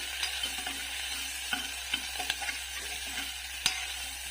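Kathiyawadi mixed vegetable khichdi masala stirred on a gas stove, a steady close sizzle broken by light, irregular spoon scrapes and clinks, with no voices.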